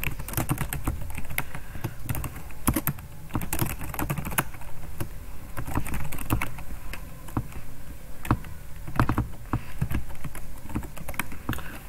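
Steady, brisk typing on a computer keyboard while data is entered into an Excel spreadsheet. Close, continuous key clatter with occasional heavier taps, and no voices.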